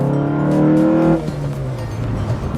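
A car engine fitted with an aftermarket intake revs hard with a throaty, raspy intake roar, then drops back toward idle partway through. Loud and close, no voices.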